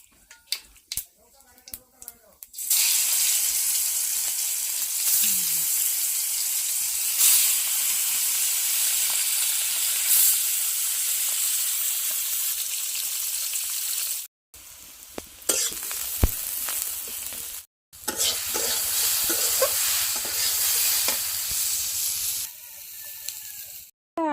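Fish pieces frying in a pan with onion and chili, a steady loud sizzle and hiss with stirring scrapes, briefly broken by a couple of short silences.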